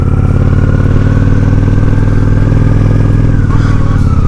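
A Honda Shadow 750 ACE motorcycle rolls across a front yard, its engine a steady, loud, close low rumble with pulsing harmonics throughout, slightly shifting near the end.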